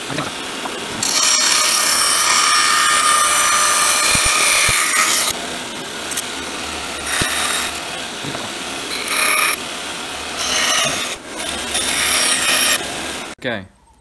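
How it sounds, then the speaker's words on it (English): A bandsaw cuts a wooden fishing lure blank with a loud, close whine and rasp, broken into several bursts as the wood is fed and pulled back, ending with a short clunk. "Now back to the bandsaw."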